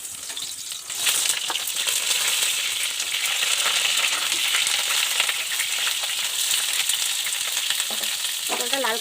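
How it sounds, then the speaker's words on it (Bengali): Pointed gourd (potol) frying in hot oil in a wok tempered with nigella seeds: a loud, steady, continuous sizzle that starts after a brief quieter moment and holds throughout, with no voices. "কালো জিরাটাও ভাজা হয়ে গেছে, এবার আমি পটলটা ভেজে দিচ্ছি।"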